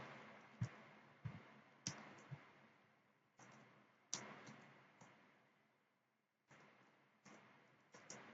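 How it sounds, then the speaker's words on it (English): Keyboard keys clicking in short, uneven bursts, each a sharp tap with a soft decay, quiet and close with pauses between the strokes and no voice. "I'm typing"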